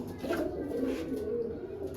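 Pigeons coo steadily and close by from a loft coop, a continuous low murmuring of several birds overlapping throughout.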